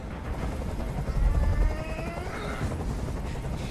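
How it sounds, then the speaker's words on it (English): A helicopter in the video game Detroit: Become Human drones steadily with a low, rhythmic rotor thump, loud and nearby, holding position without fading. "I can't stand that noise anymore. Tell that helicopter to get out of here."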